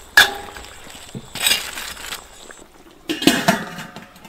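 Hairtail fish tipped into a pot of sauce seasoned with soy sauce, cooking wine, oyster sauce, rock sugar and scallion whites, bringing a few loud, close clinks and clatters of the pot and utensils between quieter pauses.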